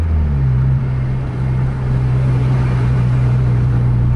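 Atlas bus on a Sumatra road holds a loud, deep, steady engine drone up close under acceleration, with the low rumble staying strong and even throughout.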